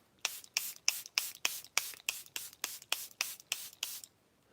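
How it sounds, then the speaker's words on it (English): A dozen quick, evenly spaced spritzes from a Charlotte Tilbury Airbrush Flawless makeup setting spray pump bottle, each a short airy hiss, close and fairly quiet, ending in silence. "Airbrush Flawless Setting Spray"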